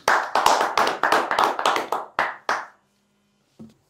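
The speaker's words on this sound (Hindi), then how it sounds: "एक बार जोरदार ताली।" Crisp, separate hand claps at a Hindi stage event come in a quick rhythm of about ten strikes over two and a half seconds. Silence follows, then one lone clap a second later.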